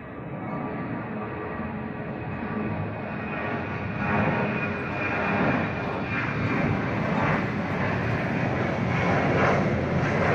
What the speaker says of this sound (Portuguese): A decolar agora, vê só aí, ó. A decolagem aí.